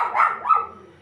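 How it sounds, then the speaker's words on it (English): A dog barks twice in quick succession, fairly close and clear, with a short yelping edge, against an otherwise quiet background. "Sorry for that dog barking"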